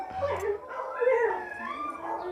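Dogs indoors getting worked up, with whining, yipping and howl-like cries rising and falling over a couple of seconds, close and moderately loud, with a voice talking alongside.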